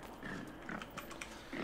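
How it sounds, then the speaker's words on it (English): Pig guards in the video game Don't Starve Hamlet grunt and oink in short, faint, low snorts over a steady background hum, several in quick succession. "Mine oinks be trouble."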